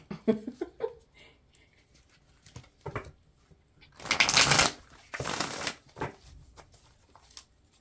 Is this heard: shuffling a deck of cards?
yes